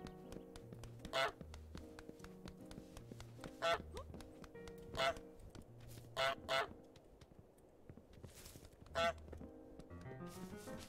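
Geese honk in Untitled Goose Game, with about half a dozen loud, sharp honks spaced irregularly over bouncy plinking piano music.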